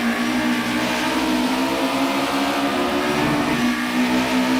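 BMW Group A race car in a racing game at Donington, its engine droning loud and steady as it downshifts, with a slight change in pitch and no talking.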